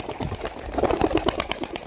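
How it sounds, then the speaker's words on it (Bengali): Giribaj and Madras pigeons burst from an opened bag with a quick flurry of flapping wings and a few soft coos, close and brief. "আমি ব্যাগটা খুলে দেবো, এখন যে কবুতর উঠবে।"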